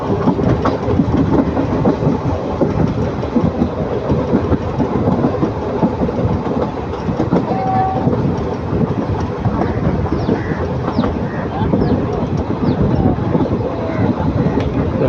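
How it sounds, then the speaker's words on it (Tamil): A train runs along a winding forest railway route in the hills between Dharmapuri and Salem in South India, its wheels clattering in a steady rhythm over the rails, loud and close and continuing throughout. "பாருங்கள், மலைக்குள்ளே போடுற மாதிரி போகுது ட்ரெயின்."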